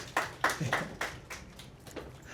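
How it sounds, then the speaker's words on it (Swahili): An audience at a training session claps for itself in a handful of sharp, spaced claps about a quarter second apart, close and fairly quiet, thinning out toward the end. "Please jipigeni makofi for that"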